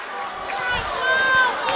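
A basketball arena crowd at a boys varsity final roars loudly and steadily, a dense wash of cheering and shouting voices with whistling tones rising above it.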